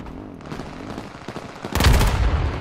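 Rapid bursts of gunfire in the PS4 battle-royale game H1Z1, a rattling volley building to a loud, dense barrage near the end, with low rumbling impacts underneath.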